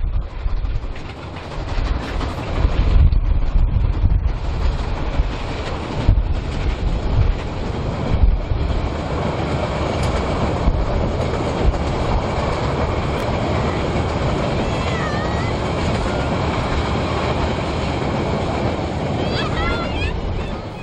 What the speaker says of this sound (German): Vorbei am Reiterhof quert der Molly die bereits abgeernteten Felder und strebt weiter ostwärts,